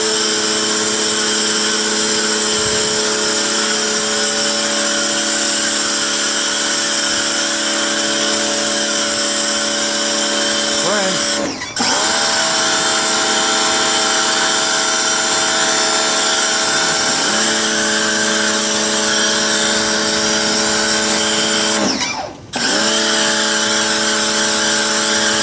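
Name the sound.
pressure washer spraying foam cannon on a Jeep engine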